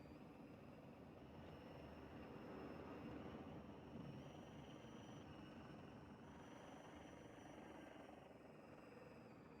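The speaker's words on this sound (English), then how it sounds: "Why do I hear a helicopter?" A helicopter drones steadily overhead, its rotor thrum continuous and fairly distant, swelling slightly then easing, with no voices.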